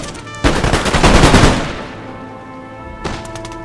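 Musket volley fire in Napoleon Total War: a loud, close, crackling burst of many overlapping shots that swells and fades over about a second, then a second, thinner ragged volley near the end.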